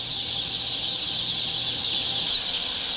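Thousands of young chicks in an indoor poultry barn peep in a dense, unbroken high-pitched chorus, steady and fairly loud, with no voices.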